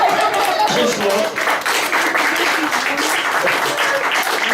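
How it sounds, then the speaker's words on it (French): A stage hypnosis show audience breaks into loud, dense, steady applause that holds throughout, with some crowd voices mixed in. "on vous applaudit très fort"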